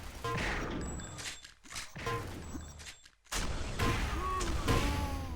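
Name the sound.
rocket fire in a mech fighting video game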